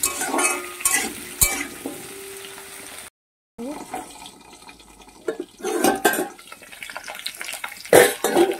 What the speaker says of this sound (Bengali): দিয়ে এটা 3-4 মিনিট ভালো করে আলুটাকে ভেজে নিতে হবে